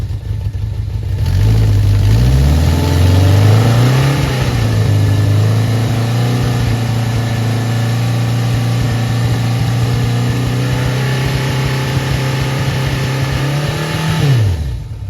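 A 1981 Yamaha XS1100 motorcycle engine revs up from idle, holds a loud, steady high-pitched drone around 3,500 to 4,000 rpm, then drops back down near the end. Close by, no talking.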